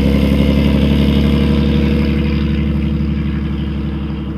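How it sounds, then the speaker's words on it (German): A Mercedes-Benz Typ 680S straight-six engine, with 98 mm bore and 130 mm stroke, runs at a steady loud rumble, its pulsing firing beat clearly audible, easing slightly in volume toward the end. "Im normalen Straßenbetrieb vermag man die sechs Kolben mit einem Durchmesser von 98 mm und einem Hub von 130 mm einzeln zu hören."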